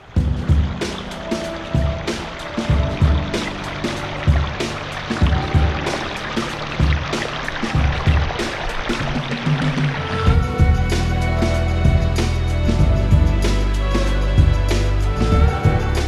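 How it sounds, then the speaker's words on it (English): Water spilling down a new 14-foot pondless garden waterfall with cascades, a continuous splashing and trickling stream close by, growing louder and fuller partway through, with no voices. "So here we have a brand new Pondless waterfall, 14 feet long from down here up to there"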